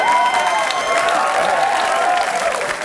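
A television studio audience breaks into steady, loud applause that carries on for a few seconds without letting up.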